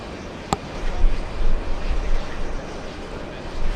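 A Norse airliner taxis at JFK airport, its engines a steady far-off rumble with a faint whine under crowded outdoor background noise and one sharp click.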